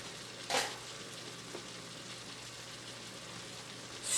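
Peppers sizzle steadily while frying in a hot pan, a soft continuous crackle with a brief louder stir or clatter near the start and faint scraping later.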